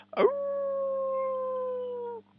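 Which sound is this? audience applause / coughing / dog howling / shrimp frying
dog howling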